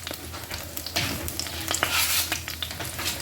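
Onions browning in a hot pan for a Sunday beef stew, a steady close sizzle broken by scraping, clattering stirs, with no talking.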